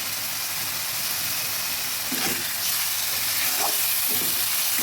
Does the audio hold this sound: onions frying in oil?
yes